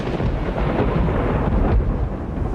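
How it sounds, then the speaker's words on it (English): Loud, continuous rumbling thunder crash on an alpine mountain filling the whole stretch, deep and close, with a heavier swell near the end and a faint wash of rain beneath. "Every time I hear the thunder crash,"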